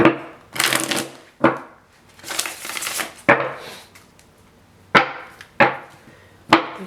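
Tarot cards shuffled by hand, close and crisp: several riffle bursts and sharp slaps as the deck is squared, separated by brief pauses.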